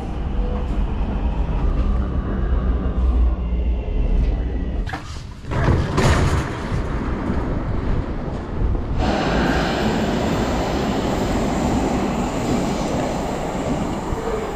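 A Munich U-Bahn subway train rumbles loudly and steadily inside a station, with a sharp door-like clatter midway and a brighter, hissing roar of the moving carriages after that.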